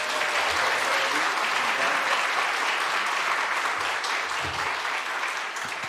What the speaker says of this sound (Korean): 우리 박수로 함께 모시도록 하겠습니다